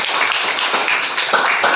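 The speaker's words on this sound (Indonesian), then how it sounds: "Ya, tepuk tangan." A primary school class claps together in a classroom, a dense burst of many small hands pattering continuously at moderate loudness with no talking over it.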